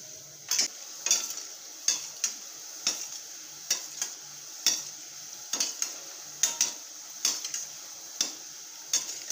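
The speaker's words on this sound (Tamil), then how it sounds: "இது இப்படி கலக்கிட்டே இருக்கணும்." Gulab jamun balls are stirred as they fry in oil, with a steady background sizzle and a series of sharp, evenly spaced taps and scrapes against the pan.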